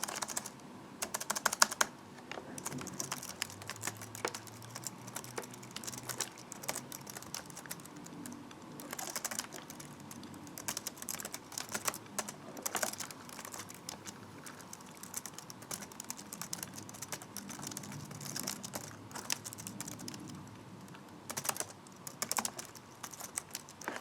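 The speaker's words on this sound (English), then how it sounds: "So I can't get used to the keyboard on this thing because it's a lot smaller." Rapid, continuous clicking of keys on the small keyboard of a Windows XP laptop, close and fairly quiet, with uneven rhythm and brief pauses between bursts of keystrokes.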